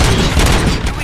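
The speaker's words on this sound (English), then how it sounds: "Gunshots? What's going on?" Loud, dense gunfire erupts in the video game RoboCop: Rogue City, with overlapping shots and booms that fill the whole burst without a pause.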